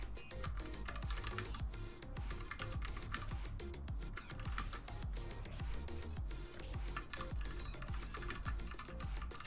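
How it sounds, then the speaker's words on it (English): Rapid typing on a computer keyboard, dense overlapping clicks and key thumps in a continuous close-up flurry with no pauses, fairly quiet and with no speech. "still typing the requests"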